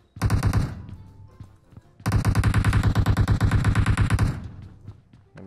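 Video game automatic gunfire in two loud, rapid bursts, a short one followed by a longer sustained volley of closely spaced shots.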